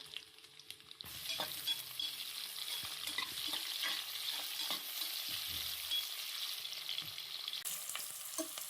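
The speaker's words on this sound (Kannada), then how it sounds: "ಆನಿಯನ್ ಚೆನ್ನಾಗಿ ಫ್ರೈ ಆಗಬೇಕು" Sliced onions frying in hot oil with fennel, cardamom, cinnamon and bay leaf for soya biryani, a steady close sizzle that swells after a quiet start, with occasional stirring scrapes and clinks.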